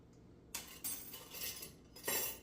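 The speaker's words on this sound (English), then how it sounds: "grab my teaspoon." A teaspoon is grabbed from a pile of metal cutlery while measuring baking soda for matcha cookies, giving a few sharp clattering bursts of clinking silverware, close and fairly loud with no talking.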